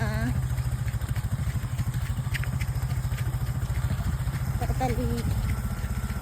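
A motorcycle engine runs steadily on a rural Philippine road, with an even low throbbing pulse and some clatter, and a few faint tonal chirps in the background.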